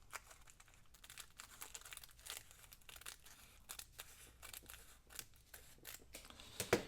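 Scissors trimming material for a journal cover, a series of soft snips and crinkly cuts at close range, quiet and irregular, with a sharper snip near the end and no talking.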